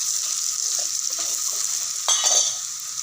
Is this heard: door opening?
no